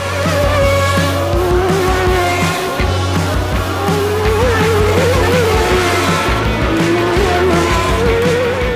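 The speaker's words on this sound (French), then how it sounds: "Alesi rate son freinage et part en tête à queue. Il touche le mur" A 1990 Formula 1 car misses its braking point and spins toward the wall. A loud, continuous engine howl shifts in pitch, with tyre squeal running through it.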